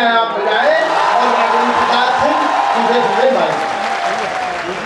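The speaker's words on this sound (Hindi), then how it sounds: "एक बार कुलपति जी के सम्मान में भरपूर तालियां आप बजाएं" Sustained, loud audience applause at a 2012 Kavi Sammelan poetry gathering at BHU, given in honour of the vice-chancellor; dense clapping continues evenly throughout with voices mixed in.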